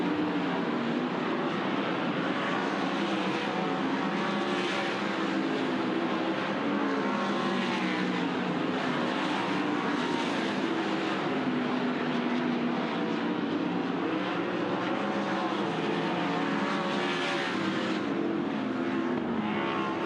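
Dirt track race cars running hot laps at a speedway, a continuous loud roar of engines throughout, rising and falling steadily as cars circle the track.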